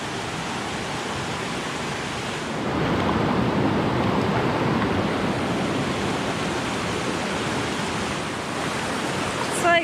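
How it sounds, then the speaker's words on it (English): A rushing creek at a hiking trail crossing in the Great Smoky Mountains, a loud broad steady roar of flowing water that swells a little partway through and stays close, with a faint voice near the end. "now I'm back to the other water crossing"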